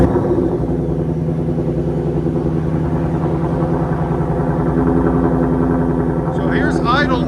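A 2024 Mustang GT fitted with a Borla cat-back exhaust idles close by with a loud, steady, deep rumble that holds throughout, while a voice talks over it.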